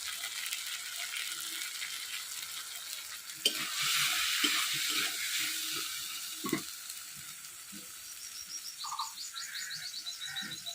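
Coriander, cumin and chili powder sizzle in a frying pan while being stirred, a steady close hiss that swells as the spices hit the oil, with birds and frogs calling faintly outdoors in a village kitchen.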